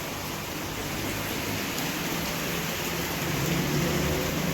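Steady rain falls at a village engagement ceremony in the Konkan region, a dense, unbroken hiss with no pauses and no voices.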